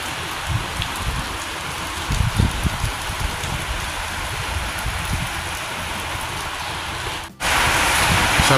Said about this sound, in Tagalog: Grabe po yung ulan ngayon dito.